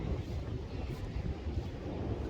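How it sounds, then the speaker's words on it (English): Wind buffets the microphone outdoors in cold, windy weather, a dense low rumble of gusts that runs unbroken and fairly close through the whole stretch, with no talking. "Everything is really cold and windy."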